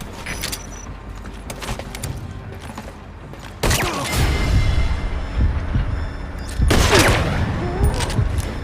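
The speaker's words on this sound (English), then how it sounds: "Gunfire." Gunfire in the stealth video game Metal Gear Solid V: The Phantom Pain, coming as loud sudden bursts over a constant ambient bed, with one burst near the middle and another toward the end.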